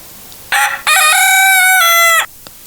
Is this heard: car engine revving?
no